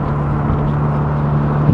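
A Nissan 350Z on its new exhaust holds a smooth, even low drone with a steady hum, quiet and unbroken for under two seconds, without any speech.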